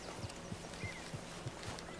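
Horse hooves clip-clop at an even walking pace in the Red Dead Redemption 2 video game, soft regular thuds over a low ambient bed.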